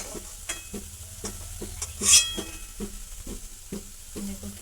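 Sweet potato pitha frying in hot oil, a continuous sizzle broken by repeated rhythmic clinks and scrapes of a spatula against the pan, close and fairly loud, with a brief brighter hiss midway.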